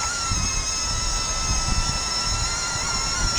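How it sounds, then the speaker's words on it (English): A small camera drone hovers outdoors in wind over a roof gutter, giving a steady high propeller whine with several sustained tones over gusty low rumble, close and continuous with no talk. "this isn't as good as the other drone I've got"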